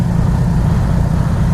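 A 2018 Yamaha MT 125 motorcycle on a test ride gives a steady, close low engine drone with rumble and wind noise, and no talking over it.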